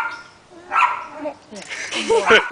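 Small chihuahuas at a doorstep on Halloween trick-or-treat night, giving high yapping barks and yips mixed with people talking, loudest toward the end.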